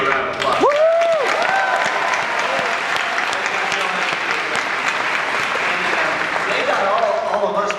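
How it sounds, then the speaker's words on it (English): An audience at a fan convention panel claps loudly for a team of stuntmen, dense sustained applause with a few whoops rising early on and holding steady throughout. "you guys should give them a round of applause."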